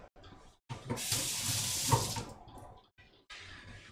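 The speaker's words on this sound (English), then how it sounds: "It's a good solid wash." Tap water runs into a kitchen sink while something is washed beneath it, a steady close rushing spray that swells loudly for a couple of seconds, then breaks off and resumes more faintly.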